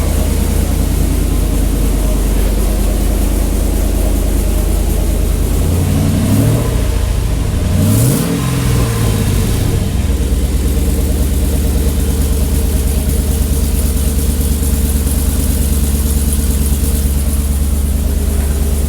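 A Chevy truck with an H-pipe exhaust idles loud and close with a steady low rumble, with a brief rise and fall in engine pitch midway through.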